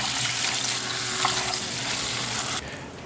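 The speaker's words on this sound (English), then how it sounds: "I'm now melting just a tablespoon of butter." A tablespoon of butter melts in a pan and sizzles steadily and loudly, a dense crackling hiss that runs without a break and then drops off sharply near the end.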